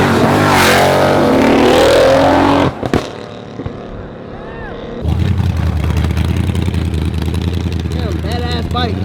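A motorcycle pulling out of a car show roars through a loud rev that cuts off abruptly, then after a short lull an engine drones on steadily at close range, with voices heard in the opening moments.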